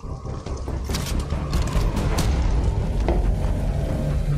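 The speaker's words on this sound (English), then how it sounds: "I am reloading." Weapon reload in a first-person shooter video game: a rapid run of metallic clicks, ratcheting and mechanical clatter, loud and close, with a sharper snap partway through.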